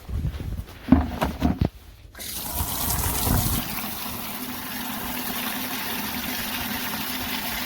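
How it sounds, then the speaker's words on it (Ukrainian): In a village yard, a tap runs to fill water for goats: a few clunks and knocks first, then a strong, steady gush of water that continues close and loud without any voices. "Водичка набирається."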